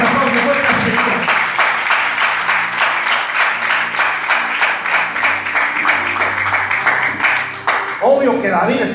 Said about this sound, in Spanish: Vamos a aplaudir fuerte al Señor.